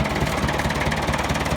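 A 1967 International 275 tractor engine idles with a steady, close, low mechanical rumble and even pulsing throb, with no voices over it.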